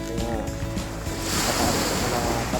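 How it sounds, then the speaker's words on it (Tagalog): Strong ocean waves at high tide on a rocky shoreline at night, a loud, close rush of surf that swells and crashes, blended with gusty wind buffeting the microphone. "malakas na nga yung alon"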